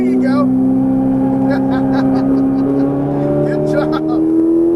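A Ferrari 458 Italia engine drones steadily on a race track, its pitch rising gradually as the throttle is squeezed, close and loud, while an instructor talks over it.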